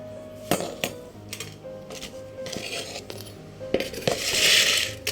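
Spice mix going into a bowl of chickpea salad, heard as a series of light metallic clinks and taps of a spoon against the bowl, fairly quiet and spaced irregularly.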